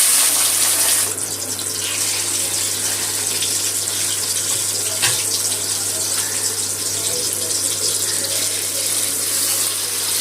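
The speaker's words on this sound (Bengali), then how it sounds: "গ্যাসটা কমিয়ে রেখে মাছের লেজাগুলো দিয়ে দেবো।" Rohu fish tails frying in hot mustard oil in a kadai, a steady, loud hiss and crackle of sizzling that runs continuously, with a brief sharper pop near the middle.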